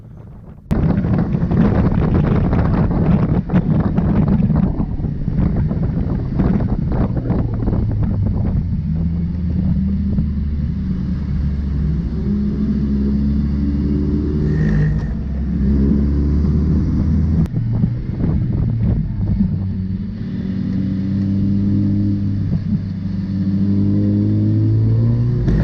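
A Mazda MX-5 with a welded differential laps a slippery racetrack, its engine droning loud and close as revs rise and fall through gear changes, with wind buffeting the microphone throughout.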